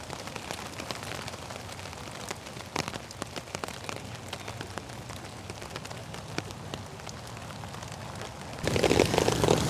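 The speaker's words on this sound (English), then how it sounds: "Yes, it is raining." Rain falls steadily on a campsite at a large hammock camping gathering, a constant close patter on tarps and surfaces with scattered louder drops, swelling to a heavier downpour near the end; no one speaks.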